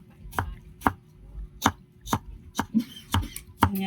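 Heart of palm (ubod) being sliced with a knife on a board, eight crisp, evenly spaced cuts landing close and clear against a quiet background.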